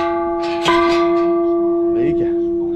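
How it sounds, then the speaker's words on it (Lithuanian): A bell in a quirky botanical garden with dinosaur figures is struck once, giving a loud clang that rings on with a long, steady metallic hum; a second, softer knock follows near the end. "Veikia varpas."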